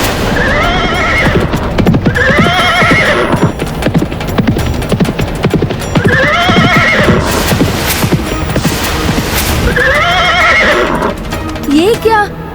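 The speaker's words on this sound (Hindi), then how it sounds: "ये क्या, हमारे अश्व की भांति दिखाई देने वाले सैकड़ों अश्व?" Many horses whinny and neigh repeatedly over a dense, continuous rumble of hooves and movement, loud and close, in a mythic battle scene with soldiers on alert.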